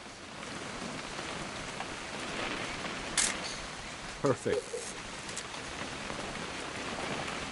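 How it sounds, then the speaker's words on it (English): Steady rainfall in the video game What Remains of Edith Finch, a continuous broadband hiss of drops on surfaces with a few brief louder taps, heard alongside a player's voice and game dialogue. "It's gonna rain the whole weekend, isn't it?"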